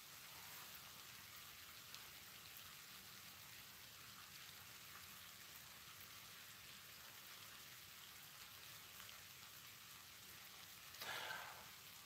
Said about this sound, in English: It's raining here. It just started.